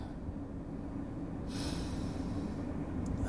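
A voice imitates a long, breathy exhale, a soft rushing sigh near the middle of an otherwise quiet moment.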